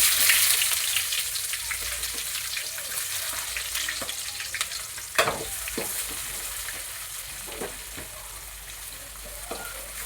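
Chopped onion hits hot oil in a pan already holding mustard and cumin seeds for a ridge gourd stir-fry, giving a continuous close sizzle with scattered crackles and a few sharper pops and stirring clinks.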